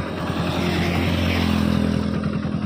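Steady engine drone of a Hero Splendor Xtec motorcycle being ridden, a low rhythmic single-cylinder thrum holding close and even with a slight rise in the middle, with no talk over it.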